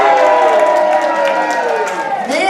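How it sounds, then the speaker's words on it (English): A show audience cheers and whoops in a loud, sustained burst of many voices, with a rising yell near the end. "Let's see which ones can cheer louder."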